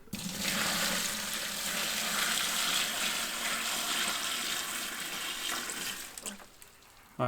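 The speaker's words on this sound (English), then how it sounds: "here's water from my fish tank. Nice and green, brownish color. And we're going to go ahead and pour a bunch of this in here." Greenish-brown water from a fish tank pours steadily into a container, a continuous close splashing wash lasting about six seconds before tapering off, with no talk over it.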